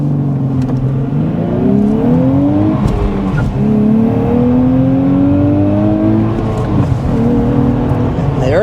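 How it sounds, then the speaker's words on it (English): A 2024 Nissan Z, a 400 hp sports car, accelerates hard from near, its engine note climbing steadily through several gear changes with brief dips between shifts, loud and continuous throughout. "let's go ahead and get started with an acceleration"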